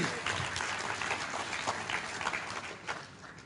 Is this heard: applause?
yes